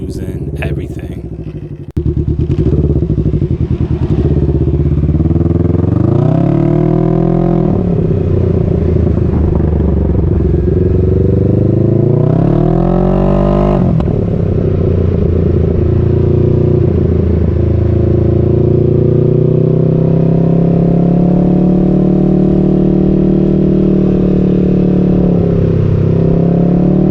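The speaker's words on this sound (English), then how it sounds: "I'm just going to show you the sound of the exhaust a bunch of different ways." A Can-Am Ryker fitted with an RLS exhaust is ridden on the road, its engine droning loud and close through repeated revs and gear changes, then settling into a steady cruising note.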